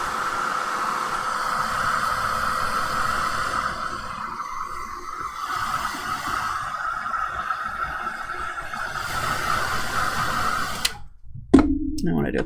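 Hair dryer drying paint on a craft devotional project, a loud steady whooshing blow that runs nearly unbroken for about eleven seconds before cutting off, followed by a few brief handling sounds.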